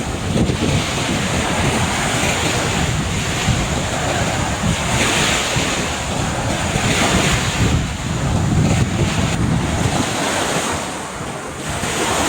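Black Sea surf washes steadily onto the shore under strong wind buffeting the microphone, a loud, continuous roar with no voices.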